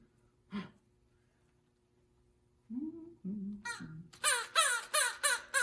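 A few low honking squawks, then a quick run of about five harsh, loud caws in a row.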